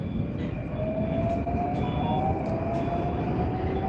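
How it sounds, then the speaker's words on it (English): Older Moscow metro car running: a steady loud rumble of wheels and motor, with faint high whines and a few light clicks throughout. "This is an older metro car."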